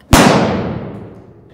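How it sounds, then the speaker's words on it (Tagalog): Gunshot sound effect: one loud, sharp crack fires close by, then tails off into a long, echoing decay lasting over a second. "ngunit bigla na lamang may isang putok na narinig."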